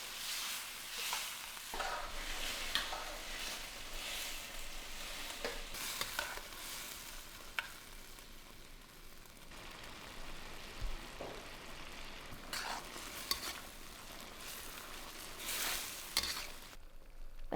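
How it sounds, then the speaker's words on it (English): Pineapple pork stir fry with its sauce cooks in a hot pan, a steady close sizzle and bubbling running throughout, broken by occasional scrapes and clatters of stirring. "Now we're going to add in that sauce we prepared earlier and cook for about 2 to 3 minutes, stirring often until the sauce is hot and thickened."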